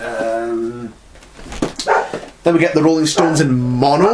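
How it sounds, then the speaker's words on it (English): A neighbour's dog barks outside in the background, a few muffled woofs heard through an open window under someone talking close up. "Apologies if you can hear the neighbour's dog outside in the background."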